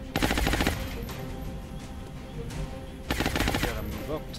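Gunfire in XCom Enemy Within comes as two loud bursts of rapid automatic shots, one at the start and another about three seconds later, separated by quieter rattling and background battle noise.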